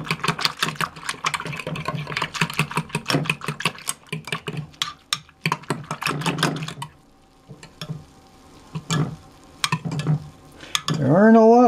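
Flour stirred into a gravy sauce in a pan, heard as quick, close scraping and clicking strokes, with a pause near the middle and a brief tonal sound at the very end.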